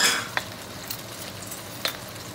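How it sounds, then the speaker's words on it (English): Chicken pieces for chopsuey sauté in a hot pan with a steady low sizzle, broken by a few sharp utensil clinks and stirring scrapes. "we will put now the chicken. All the chicken. So, there you go. Saute lang natin siya,"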